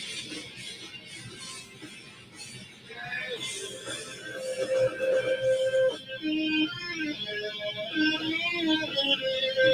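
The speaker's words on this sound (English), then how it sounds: "Here comes the guitar solo." An electric guitar solo in a punk song plays over the full band, with bright sustained lead notes and bends standing out from about four seconds in and growing louder toward the end.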